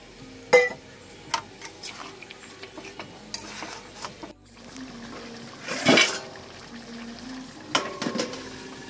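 Mutton braises in a pan while a spoon stirs it, giving scattered clinks and soft scrapes. Near the middle a brief hissing burst suggests a splash of water hitting the hot pan.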